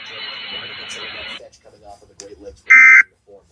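A NOAA Weather Radio emergency alert system test plays: a harsh buzzing burst at the start, then a brief loud steady alarm tone near the end, with a broadcast voice speaking between them.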